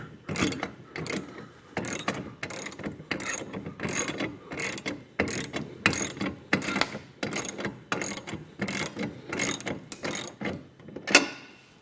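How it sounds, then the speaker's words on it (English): A hand ratchet tightens bolts while an Erickson ladder rack is installed on a truck bed, clamping down until the lock washers flatten. Steady, close clicking comes in repeated strokes, each burst followed by a brief pause. "you wanna just tighten until you flatten the lock washer"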